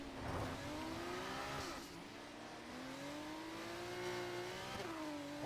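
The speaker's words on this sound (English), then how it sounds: "He's waiting for cars to go by so he can get back onto the circuit." F2 race cars scream past on the Zandvoort circuit in a racing video game, engines rising and falling in pitch as they pass by one after another, loud and close, with gear changes audible.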